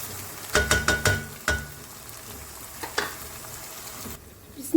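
Chopped tomatoes go into hot masala in a pan, with a few sharp clatters as they drop in, followed by a low steady sizzle and occasional stirring knocks.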